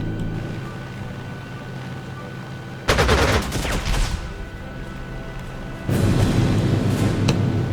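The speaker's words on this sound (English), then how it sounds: "we're going to be mercilessly bombed" Bombing in the World War II strategy game Panzer Corps 2 during a 1943 Manych breakout, with two loud rattling bursts of explosions and gunfire over a steady background hum.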